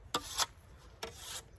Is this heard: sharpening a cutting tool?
yes